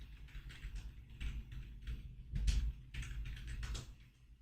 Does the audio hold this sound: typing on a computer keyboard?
yes